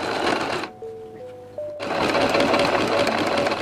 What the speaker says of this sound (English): So now we're gonna sew it up and move on to the finish.